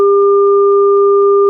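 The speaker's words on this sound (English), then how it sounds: "If we listen to the sound of this star, this fake star that plays 2 notes," Two steady sine-wave tones sounding together as a fake star sonification, a lower and a higher pitch held constant and loud with no variation for the whole stretch.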